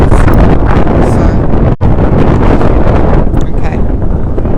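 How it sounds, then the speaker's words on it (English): Strong wind blasts a microphone outdoors among city buildings, a loud continuous rumbling roar with one brief dropout, and a voice speaking faintly beneath it. "So it's so windy, very windy, and a lot of noise bouncing up the buildings."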